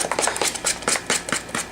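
A utensil stirs thick chipotle cornbread batter in a bowl, giving close, rhythmic scraping and thudding strokes about every quarter second with no voice.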